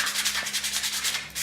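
Rhythmic rasping strokes of sanding against deer antler, steady back-and-forth rubs, close and fairly quiet.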